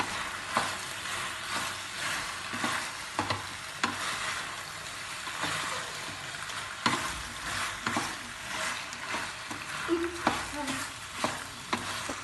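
A tomato pasta sauce bubbles and sizzles softly in a pan while a utensil stirs it, making repeated scrapes and light taps against the pan.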